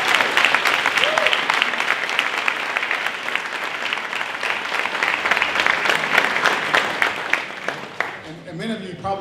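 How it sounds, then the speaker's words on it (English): Audience applause at an annual volunteer recognition reception in Manassas, a dense sustained round of clapping that continues for several seconds before thinning out near the end. "Can we give them all a round of applause?"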